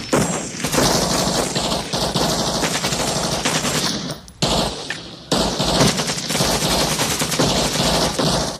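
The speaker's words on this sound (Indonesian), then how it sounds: "Baku tembak pun tidak terhindarkan lagi." Heavy gunfire in a jungle firefight from the war film Casualties of War, with dense rapid automatic bursts and overlapping shots rattling almost without pause, briefly thinning out in the middle before resuming.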